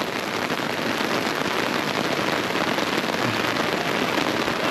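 Rain falling outdoors in the Swiss countryside near Glarus, a dense, even hiss of drops pattering on surfaces, loud and close, with no voices.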